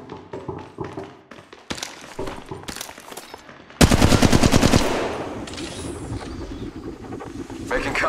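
Automatic gunfire in an Apex Legends battle, loud rapid bursts of shots that intensify into a sustained barrage midway, with a voice talking briefly at the start and game ambience throughout.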